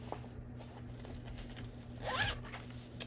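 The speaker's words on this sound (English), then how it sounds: "It has a zipper in the back." A zipper on the back of an A5-size craft pouch is pulled once in a quick, close, quiet rasp near the end, with a small click after it.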